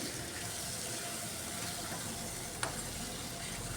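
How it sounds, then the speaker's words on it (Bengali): Fried chicken stirred with ground spice paste in a hot pan, giving a steady close sizzle throughout, with a brief scrape or clink near the end. "এবার খুব ভালো করে চিকেনের সাথে মশলাটা কষিয়ে নিচ্ছি"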